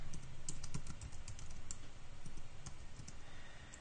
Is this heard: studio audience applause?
no